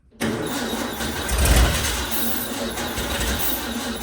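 A 1961 VW Beetle barn find cranks with its spark plugs just refitted, then catches into a loud, rough, close-up engine roar that swells briefly and settles into steady running.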